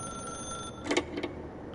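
A telephone ringing in a video game, a faint electronic trill in two short bursts over a steady background tone, with no voices.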